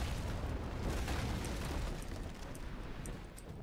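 Rolling broadside of naval cannon fire from a Naval Action sea battle, a continuous dense barrage of heavy booms running together for several seconds at steady loudness, easing slightly toward the end, with no voices.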